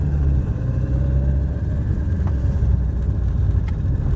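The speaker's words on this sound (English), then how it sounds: "the car is now so much easier to drive" Steady low engine rumble from an Alpine car, nicknamed Annie, under way on the road, a continuous close drone with no talk over it.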